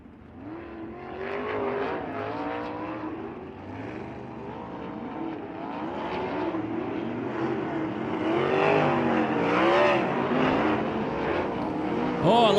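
Race cars hot lap a dirt oval at Bubba Raceway Park in winter, their engines rising and falling as they circle, building to a louder pass late on, with no speech.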